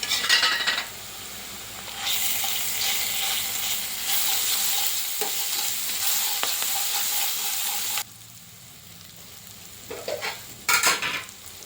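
Ginger paste with a little turmeric sizzles in a pan for a cucumber-tomato curry, a bright continuous frying hiss broken by brief scrapes and metal clinks of stirring, with a quieter stretch near the end.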